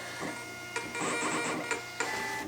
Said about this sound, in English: hit the little printer emblem icon thingy, hit print again. Now we finally get to have a label.